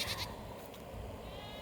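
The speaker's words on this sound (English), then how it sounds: "And goats are not happy they got banded at all." Unhappy goats on a small farm, recently banded, give a continuous, fairly loud bleating cry lasting under two seconds, close by and heard on its own with no talking over it.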